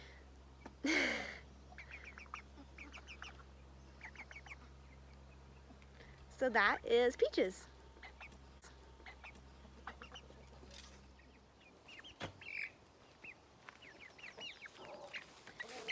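Hens cluck and squawk intermittently in a quiet space, with a burst of louder clucking midway and a person speaking briefly at the start.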